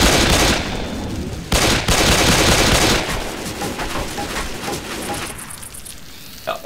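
Sustained automatic gunfire in the zombie shooter Left 4 Dead 2, loud, dense rattling bursts that carry on for several seconds and then thin out into scattered shots toward the end, no voices.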